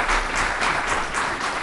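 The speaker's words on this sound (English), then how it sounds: "try and eliminate the applause" Audience applause at a public meeting during oral communications from the public, a steady wash of clapping from a room of people at moderate level.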